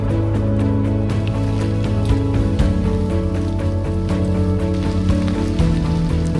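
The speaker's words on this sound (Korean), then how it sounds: "비가 생각보다 많이 옵니다" Rain falls steadily on a Hallasan mountain trail in Jeju, a dense close patter with frequent sharp drops striking nearby surfaces, continuous and alone throughout.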